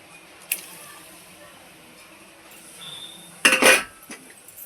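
Potato pieces for a potato curry dropped into a pot with a brief clatter of clinks and scrapes near the end, following a quiet stretch with a faint earlier knock.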